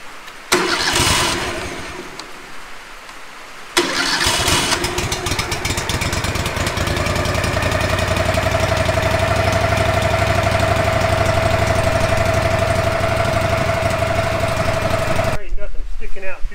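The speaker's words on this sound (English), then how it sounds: "Now guys, I choke it and start it up and let it warm up." The engine of a Wood-Mizer LT15 sawmill cranks and catches after a false start, then settles into a loud, steady idle hum with a droning tone for the rest.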